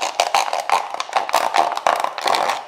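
A bread knife saws into a plastic peanut butter jar in a kitchen, giving a run of rough, scraping, crackling cuts in quick uneven strokes, close and fairly loud.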